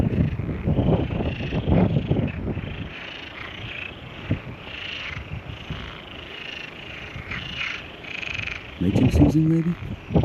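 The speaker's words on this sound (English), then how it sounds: "I hope you can hear that. That's the sound of frogs." A dense chorus of frogs croaks continuously outdoors in Portugal in mid-March, with light wind noise, and a brief voice breaks in near the end.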